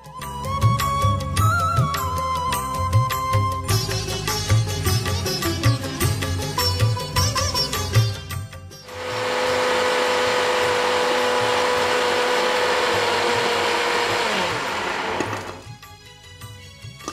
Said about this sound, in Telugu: నేను మిక్సీ వేసుకొచ్చేసేనా?